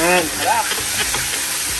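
Chicken tinola is stirred in a pot, giving a close, hissing, sizzling churn with scraping strokes while a person briefly speaks.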